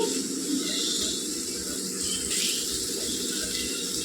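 Water poured into a cooking pot holding fried coconut, cashew and poppy seed paste for potato kurma, a steady close pouring gush running the whole time with no talk.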